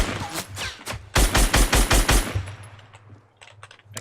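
Shotgun blasts in a video game shooter: a quick, loud volley of about six evenly spaced booming shots, then a fading tail and faint scattered clicks and rattles.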